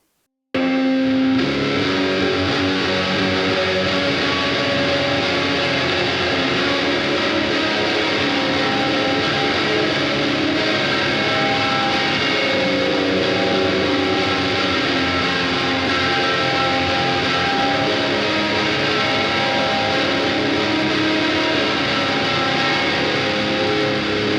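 Loud distorted electric guitar strums a sustained chord part, steady and full from start to finish, no talking.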